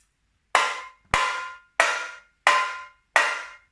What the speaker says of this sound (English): the tamborims are quite high pitched and they kind of go on a frequency higher than everything else